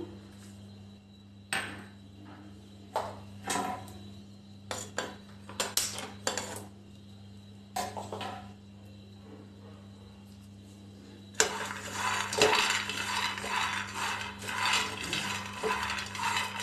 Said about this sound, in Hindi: अब मैं पीनट को रोस्ट कर लेती हूँ।